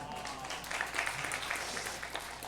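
A church congregation applauds at a teachers' dedication service, faint scattered clapping spreading through the room under low background noise.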